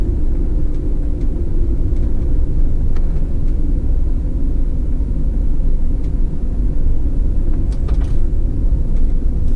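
A car drives the Seminole Canyon loop, its steady low engine and tyre rumble continuous and fairly loud throughout, with faint clicks and knocks above and no talking.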